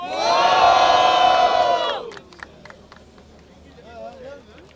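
Crowd at a rap battle, the Batalha do Coliseu, roars and cheers loudly for about two seconds, then the noise drops off abruptly to scattered claps and a voice talking.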